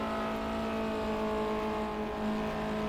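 A BMW car engine in the racing game Project CARS holds a steady, loud droning hum with layered tonal harmonics, running continuously and alone for about three seconds.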